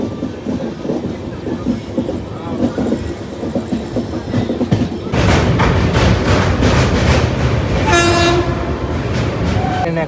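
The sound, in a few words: train departing station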